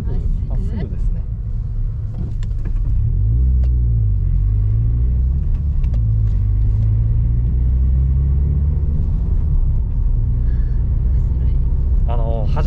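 Steady low engine rumble inside a manual Subaru BRZ on the road, droning continuously beneath conversation between driver and passenger.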